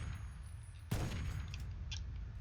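A single loud blast from Fallout 3's Operation Anchorage war simulation hits abruptly after a low hum, then a rumbling, crackling tail lingers, with faint combat sounds trailing off.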